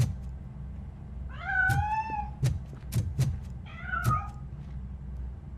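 A cat meows twice, drawn-out and whiny, while escaping from a piano in a game, set over a low rumbling background with a few sharp clicks in between.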